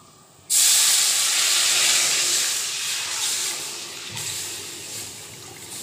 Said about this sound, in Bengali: এইবার দিয়ে দেবো জল।